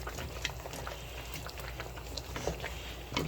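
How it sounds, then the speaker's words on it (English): Steady rain pours outside during a spell of heavy weather, a dense even hiss with scattered drop taps throughout, with no voices. "Since yesterday it has been raining,"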